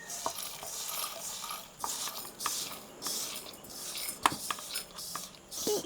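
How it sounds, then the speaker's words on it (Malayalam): Crushed garlic is tipped and tapped off a stone grinder into a mixer jar, producing soft scraping rustles and a few light knocks, with one sharp clack near the end. "ഇനി നമുക്ക് ഈ മിക്സിയുടെ ജാറിലേക്ക് ഒന്ന് കൊട്ടിക്കൊടുക്കാം"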